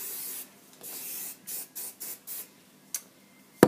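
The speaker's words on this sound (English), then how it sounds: "I'm going to spray her in between her parts with some oil sheen." Several short hissing sprays from an aerosol can of oil sheen onto a child's braided hair parts, close by, in a quick irregular series with brief pauses, ending in a sharp click.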